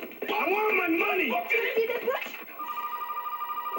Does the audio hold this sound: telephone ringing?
yes